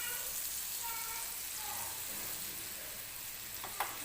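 Boondi batter dropping into hot oil for crispy salty boondi, a steady broad sizzle of deep-frying throughout, close and even, with a small clink near the end.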